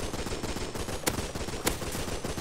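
Rapid automatic gunfire in the game Rust, a dense continuous burst close by with two sharper cracks standing out, no talk.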